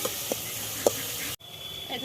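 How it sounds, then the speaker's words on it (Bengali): Salted onions frying in a pan for a potato chicken curry, a steady close sizzle with a few soft stirring knocks, cut off abruptly then returning fainter. "পেঁয়াজ ভাজতে অনেকক্ষণ সময় লেগে যায়"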